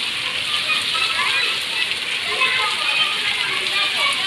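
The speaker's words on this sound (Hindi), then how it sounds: "गाइस ये बारिश हो रही है" Heavy rain pours down steadily outdoors, a dense, loud, continuous hiss of drops with no break across the whole stretch.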